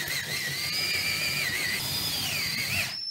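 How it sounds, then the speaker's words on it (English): A power drill bores steadily into hardwood for a homemade wooden mace, a close, continuous high whine with wavering pitch over a low grinding rumble, cutting off abruptly at the end. "So I'm going to finish up drilling this in."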